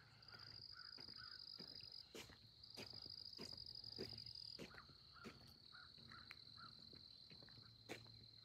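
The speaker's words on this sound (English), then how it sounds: "You hear the birds?" Outdoor countryside ambience on a quiet patio, with a continuous high cricket chorus and sparse short bird calls scattered throughout, all faint and distant, with no voices.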